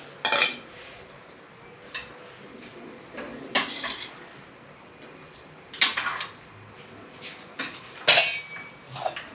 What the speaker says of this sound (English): Give that a stir in.